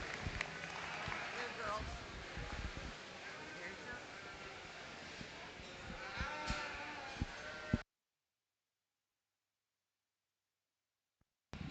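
Southdown yearling ewes in a state fair show ring, with bleating and shuffling hooves under a busy crowd and a voice over the loudspeaker, before the sound cuts to silence.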